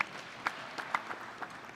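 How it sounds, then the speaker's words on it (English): Scattered applause from an audience at a business school graduation hooding ceremony, light and uneven with a few sharper claps standing out over a thin room background. "I think that applause is for you, Mark"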